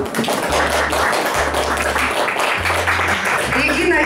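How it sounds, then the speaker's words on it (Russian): An audience at an art exhibition opening in a gallery in Irkutsk breaks into dense, steady applause that fills the whole stretch at an even, fairly loud level, with a low steady hum underneath. "Бурные аплодисменты."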